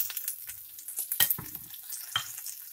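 Shallots, garlic and curry leaves sautéing in a pan for a Kerala red spinach thoran, a close crackling sizzle broken by a few sharp scraping stirs.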